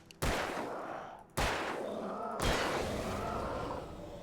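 Three loud, separate gunshots from the Alan Wake video game, each a sharp crack followed by a long ringing decay, spaced roughly a second apart with no talking.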